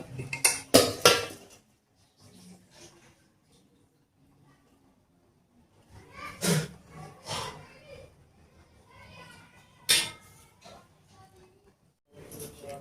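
Sporadic clinks and scrapes of utensils against a metal plate while mixing chakli dough, with quiet stretches in between and brief bursts of handling noise.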